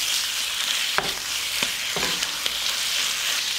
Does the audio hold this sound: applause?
no